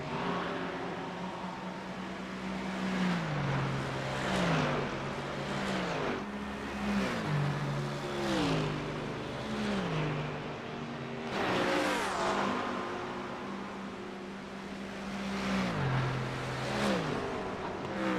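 A pack of race cars in the iRacing sim at Watkins Glen, engines rising and falling through gear changes as several cars pass close together in overlapping waves, steady and fairly loud with no talking.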